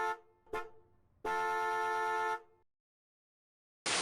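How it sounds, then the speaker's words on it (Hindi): A car horn sounds in two short taps followed by one longer, steady honk, then silence and the start of another tone at the end. "कार के हॉर्न की आवाज़।"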